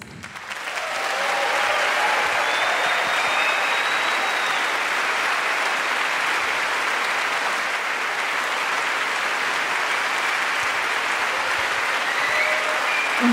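Sustained audience applause fills a concert hall at the Elbphilharmonie, rising within the first second and then holding steady, dense and loud, for the rest of the stretch with no voices on top.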